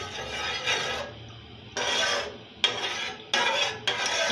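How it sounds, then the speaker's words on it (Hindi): A spoon stirs honey into juice, giving several bursts of scraping and rasping against the vessel separated by short pauses, close and fairly quiet. "इसको अच्छी तरह मिक्स कर लूँगी इस जूस के अंदर इस हनी को"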